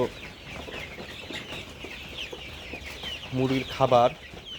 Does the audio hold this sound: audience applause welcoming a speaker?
no